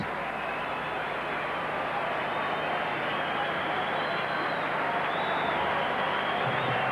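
Boxing arena crowd at a Naseem Hamed versus Chris Clarkson bout, a steady wash of applause and cheering noise that holds evenly throughout, broad and distant with no single clap standing out.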